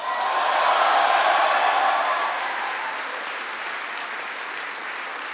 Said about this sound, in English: Give another round of applause to Army Specialist Courtney Newby for the great introduction